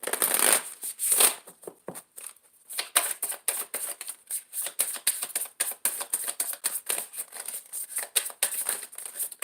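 Tarot cards being shuffled close up, a quick run of papery riffles and soft slaps in uneven bursts, with no talking.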